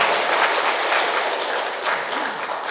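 A large audience at a suicide-prevention touring performance applauds steadily, a dense, even wash of clapping that holds at full strength for nearly three seconds before tapering slightly at the end.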